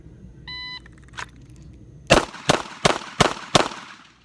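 Five sharp, loud shots from a Ruger LCRx .38 Special revolver with a 3-inch barrel crack out in quick, even succession at a shooting range, just after a brief electronic timer beep.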